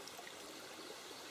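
River water flowing in a rain-soaked video game landscape, a faint steady trickling stream murmur heard alone at low level.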